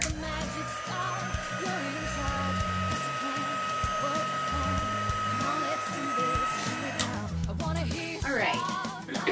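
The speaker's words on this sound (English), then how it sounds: "Whenever you're heat embossing, you want to make sure that you're on high or number two." A heat embossing tool on its high setting blows a steady, loud airy whoosh for about seven seconds, then cuts off, leaving a few softer handling sounds at the end.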